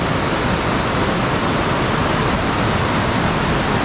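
A river rushes past at night near Guptkashi in the mountains, a loud, steady roar of flowing water that fills the whole stretch with no talk.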